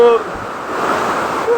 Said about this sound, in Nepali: पानी जाँदैछ मजाले